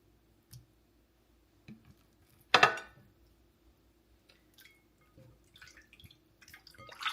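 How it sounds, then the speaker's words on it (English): Raw salmon pieces are dipped and rinsed in clean water. Soft drips and small splashes come quietly and sparsely, with one louder splash near the middle, over a faint background hum. "we're dipping it again in really clean water just to rinse it off"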